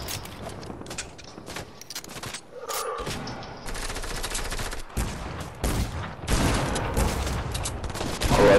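Bursts of automatic gunfire from a Fortnite firefight crackle through the scene, with rapid volleys and single shots overlapping close and loud before a brief pause and heavier fire.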